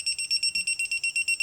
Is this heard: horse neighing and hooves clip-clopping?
no